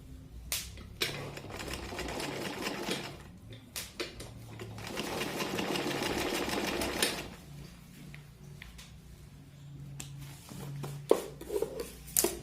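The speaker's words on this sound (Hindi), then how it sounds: "अब इसके ऊपर मैं सिलाई कर लेती हूँ।" A sewing machine stitches a table cover made from an old saree, its needle running in fast steady bursts with short stops and restarts, plus scattered taps and fabric handling between runs.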